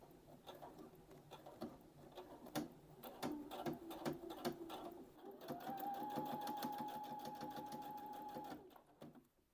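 A domestic sewing machine stitches a jacket shoulder seam, starting in short stuttering runs of rapid needle taps, then settling into one long steady whirring burst with a rising motor tone before stopping.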